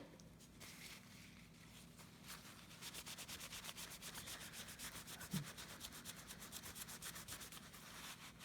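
A Glock magazine is rubbed with acetone to remove a paint smear. A steady, quiet scrubbing sounds close by with fast repeated strokes, and a single faint knock comes partway through.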